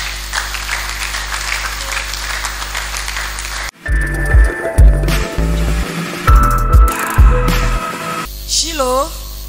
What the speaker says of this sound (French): Acclamez pour Jésus.